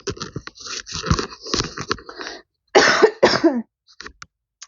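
A series of harsh, loud coughs and throat clearing up close, in uneven bursts separated by short pauses.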